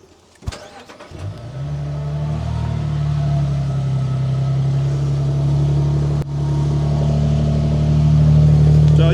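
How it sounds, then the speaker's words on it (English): A Lexus GX550 on 37-inch tires cranks and starts, then settles into a steady, deep idle through a mild aftermarket exhaust, close and loud with a low even tone. "So we'll do a quick startup and show you how that sounds. It's a pretty mild exhaust."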